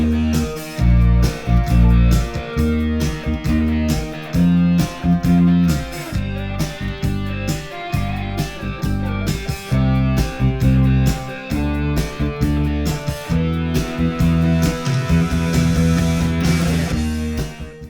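A bass guitar plays the grooves of a song over a full backing track, with deep repeated bass notes and steady drums loud and clear for the whole stretch, and no talking.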